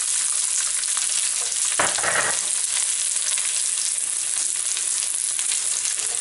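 Garlic hits hot olive oil with a burst of loud sizzling, a steady broadband frying hiss under a brief stirring scrape for home-style mushroom Manchurian, with no talking.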